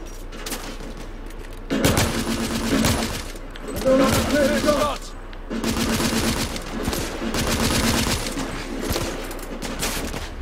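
Machine gun fire in The Order: 1886, bursts of rapid automatic shots coming in loud sustained volleys with brief pauses between them, close and dense throughout.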